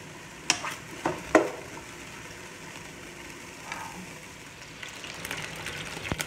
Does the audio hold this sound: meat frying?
yes